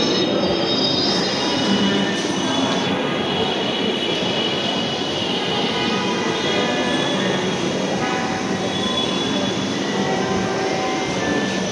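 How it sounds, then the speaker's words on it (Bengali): A Dhaka metro train pulls into a station, its loud continuous rumble layered with high, sustained wheel squeal and rail noise filling the whole span at close range, with no voices. "এখন ট্রেন থামবে"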